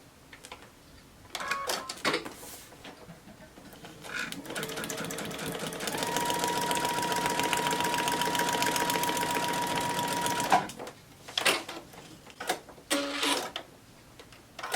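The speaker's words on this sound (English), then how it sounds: "I'll go ahead and sew that." Sewing machine stitching fabric for a Courthouse Steps quilt block, a steady mechanical whir lasting several seconds, framed by shorter bursts of stitching and handling clicks before and after.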